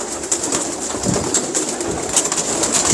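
Old, rare pigeons cooing steadily nearby, low throaty coos repeating over a few seconds against a faint background hiss, with no voices.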